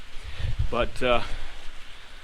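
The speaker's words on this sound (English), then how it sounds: "my goodness, sounds like rain" Steady rain patters as a soft broadband hiss outside a motorhome on a Freightliner chassis, continuous throughout, with someone talking briefly over it.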